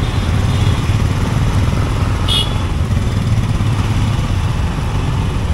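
Motorcycles idling on a rough highway in South Sikkim, a steady loud low engine rumble throughout with no break, close by.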